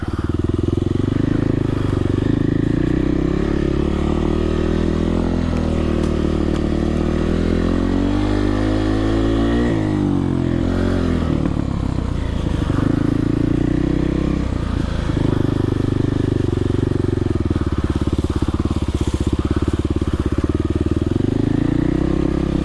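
Kawasaki KLX 300R dirt bike riding through woods, its single-cylinder engine droning steadily up close with rising and falling revs as the rider shifts and throttles, loud throughout with faint mechanical clatter.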